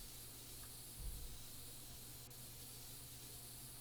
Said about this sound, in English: I choose compressed air